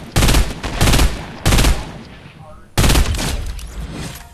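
Loud bursts of gunfire in Fortnite, three heavy volleys of rapid shots separated by brief pauses, with quieter lingering reverb between them.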